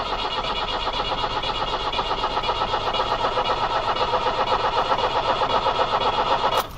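An old 1990 Iveco Daily 35-8 diesel with a fault since its injectors were removed cranks steadily and close for several seconds, with a rapid rhythmic churn that never catches, then stops abruptly.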